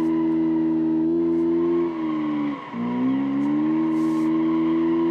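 Car drifting in BeamNG inside a parking garage, a sustained engine drone holding steady with a brief dip midway before rising again, steady tire hiss beneath, loud and close with no talking.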